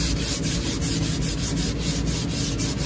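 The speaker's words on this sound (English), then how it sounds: "Burnish the crap off of it, smooth up the handle." Rhythmic rubbing strokes burnishing and smoothing a wooden shovel handle, a loud, close, continuous scraping swish repeating at a steady back-and-forth pace.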